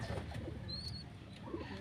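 Pigeons coo softly over a low, steady background hum, with a couple of brief higher calls; no talking is heard.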